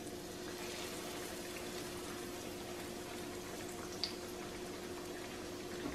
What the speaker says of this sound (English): When you put flour in there and it sizzles up, your flour is ready.